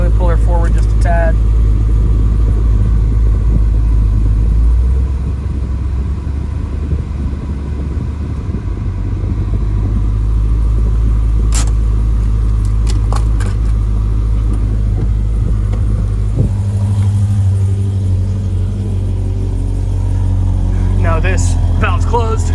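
A 2013 Chevrolet Corvette Grand Sport manual coupe idles loud and deep, its engine rumbling steadily as the car creeps forward a short way, with a few clicks over the drone.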